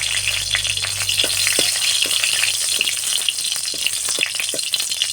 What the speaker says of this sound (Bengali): আমি তেলটা দিয়ে দিব। আমি একটা শুকনো লঙ্কা দিয়ে দিব।